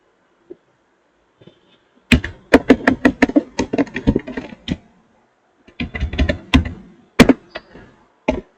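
Computer keyboard keys are tapped in quick bursts while code is typed, with crisp, close clicks separated by short pauses and no speech.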